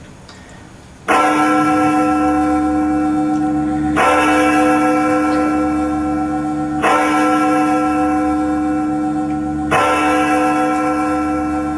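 Large church bells ring out loudly, struck four times at slow, regular intervals, each peal ringing on and overlapping the next with a rich humming tone.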